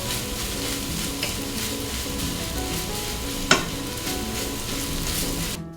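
Freshly cooked rice being stir-fried for Japanese yakimeshi in a pan: steady loud sizzling with scraping and stirring throughout, close up, plus one sharp clack of a utensil against the pan.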